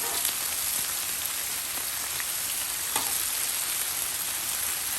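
Beef bacon fries on a Blackstone griddle at around 350 degrees, giving a dense, loud, rain-like hiss that holds steady throughout, with scattered faint crackles and no voices.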